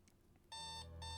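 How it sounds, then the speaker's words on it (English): An alarm clock rings out loudly with a steady electronic tone that starts abruptly partway through, after a quiet room, and keeps sounding to the end. "A loud ringing wakes me up at an hour I should not be up at."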